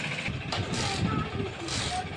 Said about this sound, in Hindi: पापा जा रहे हैं ऑटो से, और भैया जा रहे हैं मोटरसाइकिल से।